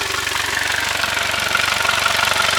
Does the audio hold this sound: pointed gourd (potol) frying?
no